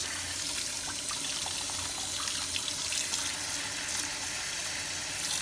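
Lukewarm water running from a shower head used to water cracks in salty soil outdoors, a steady, even hiss of spray with no talking.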